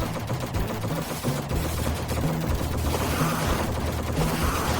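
Rapid rifle gunfire rattles in the video game Helldivers, dense overlapping bursts of shots running continuously and fairly loud with no speech.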